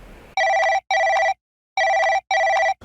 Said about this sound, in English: And Vic Morris calls me on the phone.